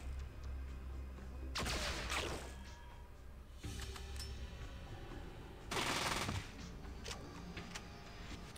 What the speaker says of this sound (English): Salvatore's man was hit for 1 hit point with a burst fire shot right in his face.